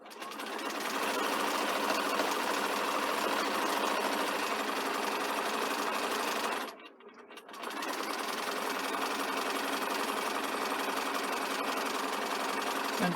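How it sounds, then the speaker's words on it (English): A sewing machine runs steadily and loudly, stitching a front placket band down to the bottom, with a brief stop partway through before the motor resumes its continuous whir. "So I'm just going to sew right down to the bottom and back stitch."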